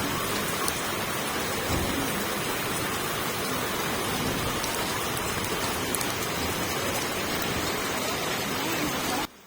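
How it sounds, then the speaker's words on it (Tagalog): Steady rain falls around a home during a rainy spell, a dense, continuous hiss of drops on surfaces that stays loud and even from start to finish before cutting off abruptly at the end. "medyo maulan na talaga dito sa amin"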